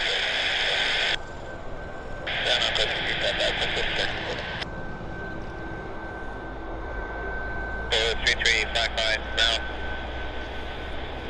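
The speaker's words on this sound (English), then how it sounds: "our Air Canada Max, is also taxiing towards the runway now" An Air Canada Boeing 737 Max jet taxis towards the runway at Vancouver airport, its engines giving a steady distant whine and rumble, while people talk over it with intermittent bursts of higher-pitched noise.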